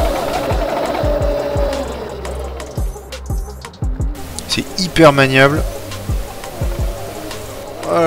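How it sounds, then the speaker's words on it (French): An Electric Motion Etrek electric motorcycle makes a whirring, rattling chain-drive noise while riding over stones. The noise rises and falls in short pulses beneath someone speaking French. "Là avec la chaîne finalement on a plus un bruit de transmission qu'un vrai bruit de secoupe volante."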